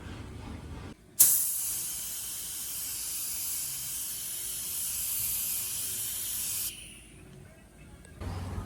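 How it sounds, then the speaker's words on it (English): A spray gun hisses in one long, steady, loud burst lasting several seconds as silver paint goes onto the masked-off flutes of a 1933 Rock-Ola World's Fair jukebox cabinet, stopping abruptly before a brief second start. "so we have it all masked off, ready to spray"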